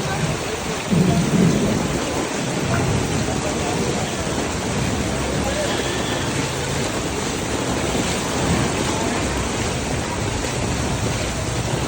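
A heavy downpour pours in Surat during a thunderstorm, a loud, unbroken roar of rain with a deep rumble of thunder rolling through near the start and no talk.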